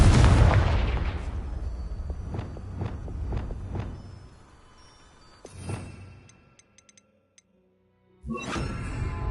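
Confringo fire spell in Hogwarts Legacy, a loud close explosion that opens the stretch and rolls off, followed by several sharp cracking blasts and another burst before a quiet gap and renewed noise.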